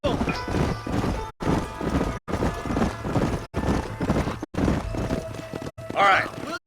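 Horses clip-clop in Red Dead Redemption, steady hoofbeats thudding close under near-constant game dialogue, with brief cuts in the sound and a short whinny near the end.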